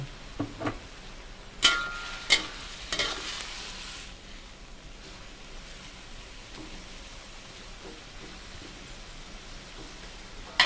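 Green papaya and canned fish stir-fried in a pan, a steady soft sizzle with a few sharp scrapes and clinks of the spatula early on, then continuous quiet frying without talk.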